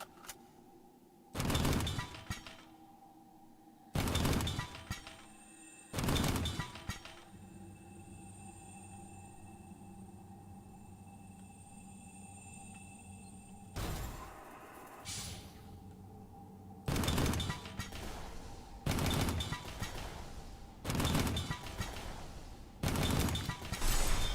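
A grenade launcher in an Armored Core-style mech game fires in loud, separate bursts. The blasts come in spaced groups over a steady mechanical hum, some standing alone and others in quick pairs or runs.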